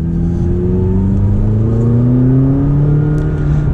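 McLaren 570GT accelerates hard, its engine note climbing steadily in pitch as a loud, close, continuous roar with no pauses.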